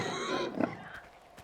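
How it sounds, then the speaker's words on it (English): Pig oinks and grunts in a video game, a short cluster of nasal grunts over a busy game backdrop, fairly faint and fading out. "I don't see where you pigs are, though. I hear you, but I don't see you."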